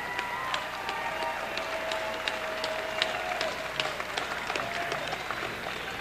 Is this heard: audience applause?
yes